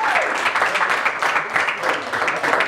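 Charity gala audience at a London hotel applauding as a guest is called forward: dense, continuous crowd clapping filling a large room, loud and steady throughout with no break.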